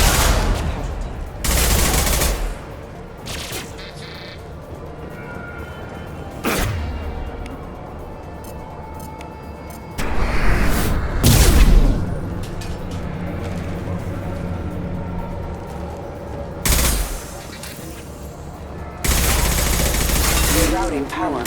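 Bursts of high-impact gunfire from a Mass Effect 2 firefight, several loud sustained volleys spread across the scene with quieter stretches between, and voices talking in between.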